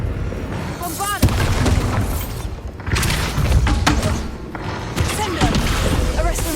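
The Bombardo blasting spell explodes in the video game Hogwarts Legacy during a combat sequence. Several deep booms and thuds land among busy spell effects, with occasional voices over the mix.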